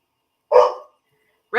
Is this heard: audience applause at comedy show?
no